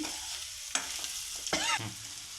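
Boiled eggs fry with garlic and chili powder in a pan, a soft steady sizzle broken by a few scraping stirs from a spoon.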